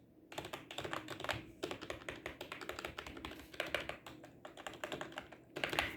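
Steady typing on a membrane keyboard whose switches were all removed and brush-lubed, the keystrokes coming in quick, continuous, muffled taps close to the mic, with no talking.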